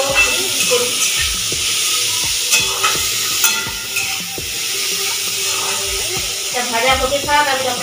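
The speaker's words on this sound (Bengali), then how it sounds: "ভাজা হতে থাক" Pumpkin slices fry in a pan with a steady, close sizzle and hiss, broken by occasional stirring clatter, while a voice talks over the frying.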